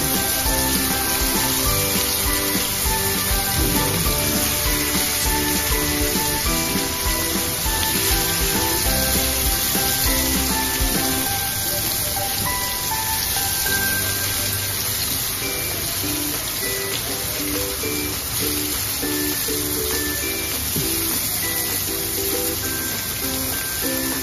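Stuffed shev frying in hot oil in a pan, a dense, steady, loud sizzle running unbroken throughout with no talk.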